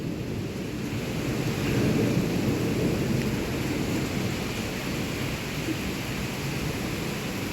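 Heavy rain pours down with strong wind during a storm, a dense, steady roar of rain with low rumbling throughout, no voices.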